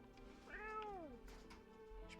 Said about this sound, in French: Prends le chat? Tu veux que je prenne le chat?